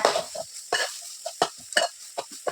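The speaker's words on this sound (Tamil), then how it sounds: "கேரட்டு பீன்ஸ் காயோட சேர்த்து முட்டையை சேர்த்து நல்லா கிண்டி கொடுத்துக்கோங்க" Egg, carrot and beans are stirred in a frying pan over a gentle sizzle, with about six scraping strokes of a spoon against the pan at an uneven rhythm, close and clear.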